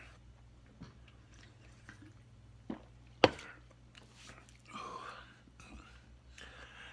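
Nacho cheese Doritos are eaten close up: a sharp crunching bite, then a few quieter crunches and chewing sounds against a low background hum.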